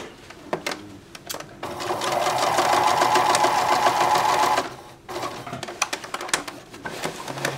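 Short bursts of sewing-machine stitching on a purse handle are broken by small clicks and handling noises. A longer steady run follows, close and moderately loud, then the needle stops for rotating at the corner and more clicks and fabric shuffling come after.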